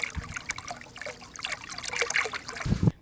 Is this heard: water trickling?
yes